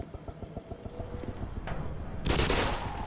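Rapid gunfire in the Half-Life video game as a player shoots at a headcrab's legs: a quick series of sharp shots, followed by a louder, broader burst of noise near the end.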